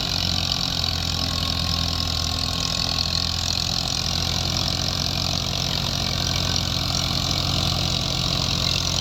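A New Holland 480 tractor engine idles at a steady, low, rumbling throb, close by and continuous throughout, with no voices.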